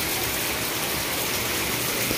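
Heavy monsoon rain pours onto a flooded rooftop in a steady, dense rush of water that stays loud and constant throughout, with no voices.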